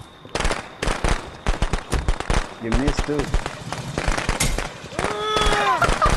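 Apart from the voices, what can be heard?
firecrackers going off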